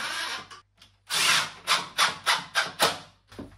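A power tool drives screws while a Herakles glass sliding door is being installed, with one longer whirring burst followed by five short, loud, evenly spaced pulses close by, no talking.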